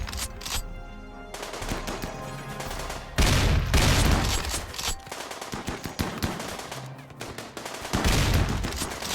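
A RimWorld firefight plays as loud, sustained automatic gunfire, dense bursts rattling back to back and swelling in intensity, with no voices over it.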